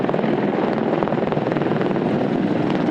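Several AH-64 Apache military helicopters flying in close formation for an Army flyover before the Army-Navy game, a loud, continuous rotor roar with rapid blade thumping, close and without speech.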